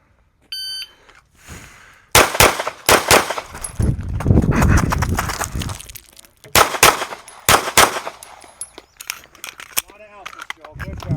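Pistol gunshots at a two-day shooting class ring out in sharp bursts of several quick shots, separated by pauses and people talking.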